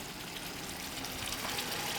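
Cornish chicken and beans fry in a pot over an outdoor fire, a faint, steady bubbling sizzle with no voices.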